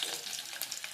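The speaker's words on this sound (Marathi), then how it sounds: "सर्वप्रथम राई घालून घेऊया, लसूण घालून घेऊया," Mustard seeds and garlic hit hot oil in a pan, a brief close burst of bright hissing sizzle with a few tiny pops. There is no talk over it.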